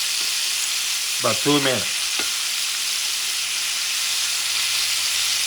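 Pork frying in a pan for a pumpkin and pork stew, giving a steady, close sizzle throughout, with a short spoken phrase near the start.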